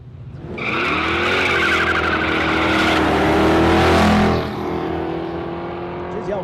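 An old Ford Fairlane drag car launches hard at Warwick Dragway, engine revving loud and close with screeching tire squeal, the pitch climbing and then easing as it pulls away.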